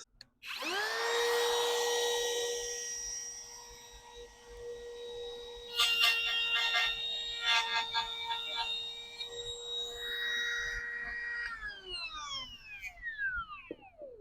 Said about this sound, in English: When I put the router in there and drag it, it will clean that up in a hurry.